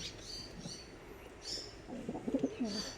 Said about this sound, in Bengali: এই পাউডার পায়রাটা যেটা দেখতে পাচ্ছেন